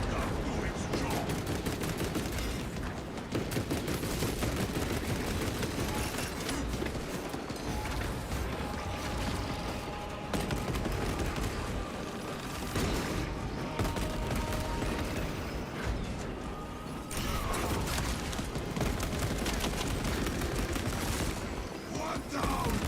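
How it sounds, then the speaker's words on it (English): Rapid servo gun fire in a sci-fi space shooter, dense continuous bursts with brief pauses, loud and cluttered, mixed with mechanical clatter and battle noise. "Let the servo gun do its job!"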